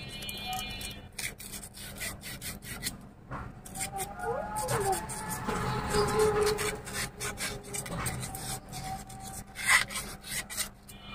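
Rubbing and scraping a broken motorcycle horn's coil clean, a series of rough rasping strokes close by, with someone talking through it.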